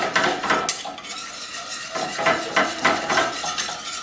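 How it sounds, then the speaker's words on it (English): A spoon stirs Steak Diane sauce in a pan, with repeated scraping and clinking strokes against the metal and a faint sizzle underneath. The sound is close and steady, with no talking. "Take and stir this all in."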